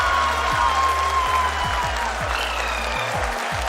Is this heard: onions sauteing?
no